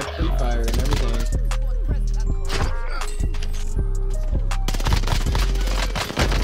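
Rapid automatic gunfire in Call of Duty on Rebirth Island, a dense run of sharp close shots fired in quick bursts with metallic clinks and thumps, continuous loud combat throughout.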